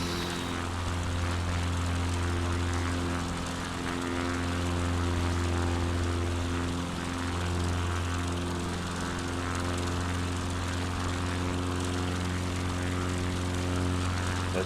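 Propeller engine of a single-engine light airplane in Microsoft Flight Simulator 2024, running near maximum RPM in cruise: a loud, steady drone with strong low harmonics that holds unbroken throughout, with no voices.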